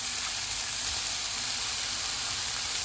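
Minced meat fries with tomatoes and spices in a pan, a continuous close sizzle and hiss with no voices.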